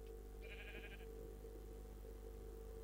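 A single short, faint sheep bleat from a Minecraft modpack, lasting about half a second over a steady low hum of background noise.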